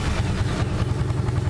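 A carbureted 2004 Suzuki LS650 single-cylinder thumper motorcycle, a little cool, running close by with a steady, throbbing low engine note and a rapid pulsing beat throughout.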